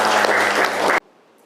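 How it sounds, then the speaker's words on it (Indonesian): Applause in a classroom: a brief burst of many hands clapping together, loud and close, stopping abruptly after about a second into near silence. "Tepuk tangan untuk teman kita semuanya."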